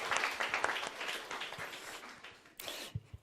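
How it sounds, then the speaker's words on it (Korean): A church congregation applauds after the choir's anthem during a Sunday service, a dense burst of clapping that thins out near the end with a few scattered claps. "박수를 한번 쳐드리고."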